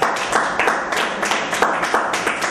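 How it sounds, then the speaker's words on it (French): A short burst of audience clapping at the close of an event in Douala, loud and near, with a brisk run of overlapping claps from a modest group. "Vite fait, hein, on applaudit, c'est la fin"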